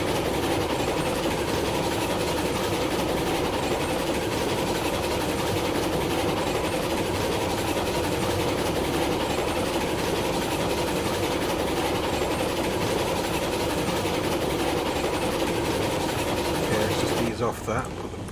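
A steam train in the video game Railroads Online runs along the track at speed, a continuous loud rumbling drone with rhythmic clatter, steady throughout with a voice speaking over it at times.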